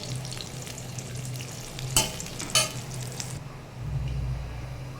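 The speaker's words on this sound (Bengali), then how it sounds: "দেখুন বেগুন ভাজিটা কিন্তু প্রায় হয়ে গেছে আর একটু হবে" Eggplant (brinjal) slices fry in hot oil with a steady, close sizzle, broken twice by sharp clinks of a utensil against the pan.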